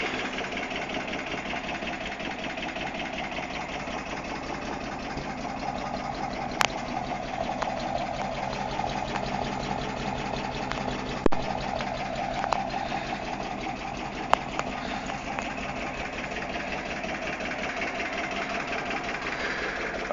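A 1956 Ford Fairlane's 4.8-litre 208 hp V8 with a stainless steel exhaust idles steadily at close range, a low even rumble with a few faint ticks and clicks over it.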